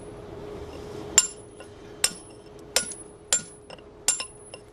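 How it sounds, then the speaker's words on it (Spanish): A stonemason works a block of black Jurassic marble with a flat chisel, five sharp metallic strikes spaced about a second apart, close and clear over a faint steady hum. "El escalfilador es una herramienta de corte plano que se utiliza para tallar el bloque."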